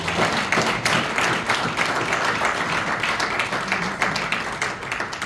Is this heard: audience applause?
yes